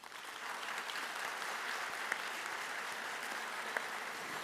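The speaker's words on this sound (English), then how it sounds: "I would love for us to give you a round of applause" An audience at a school Teacher of the Year ceremony applauds the honoree's family; an even, distant wash of clapping holds steady and fairly faint from start to finish.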